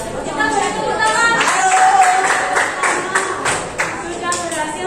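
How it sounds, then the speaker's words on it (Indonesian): Students in a classroom give a round of applause after a group presentation, a dense, steady clapping that fills the room for several seconds, with voices chattering underneath. "Kita beri tepuk tangan."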